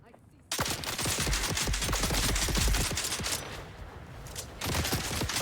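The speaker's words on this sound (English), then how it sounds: "Stop shooting guns." Gunfire in the Dune: Awakening video game comes as a dense, loud burst of rapid automatic shots, then continues as quicker, thinner volleys that keep firing until the end.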